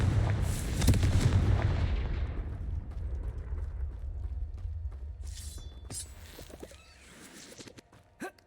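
In the Hogwarts Legacy video game, the Confringo explosion spell sets off heavy booming blasts that rumble and fade over several seconds. A few sharp magical crackles and impacts follow toward the end, all without speech.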